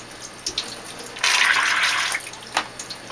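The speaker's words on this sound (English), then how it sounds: "you can blow through the hose just to make sure it's bubbling right" Water bubbles and gurgles in a Santa Monica Filtration HOG1.3 upflow algae scrubber as air is blown through its hose, a loud close-up burst of about a second with a few smaller splashy pops around it.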